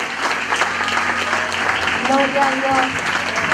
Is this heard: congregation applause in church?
yes